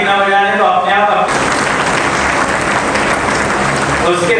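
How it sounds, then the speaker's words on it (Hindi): A crowd at a Jain temple's foundation-day chariot procession festival breaks into dense, loud clapping that lasts about three seconds, with talking just before it starts and again as it fades. "एक बार अपने आप की ताली बजा के स्वागत कर लो अपना"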